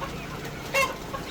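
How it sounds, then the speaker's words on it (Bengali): Chickens on a poultry farm with grown birds, one brief cluck or squawk rising near the middle over a steady low farmyard murmur, fairly faint overall. "মুরগিটা অনেক বড় হয়ে গেছে এরা নিজেরা নিজেরা খুব মারামারি করতেছে"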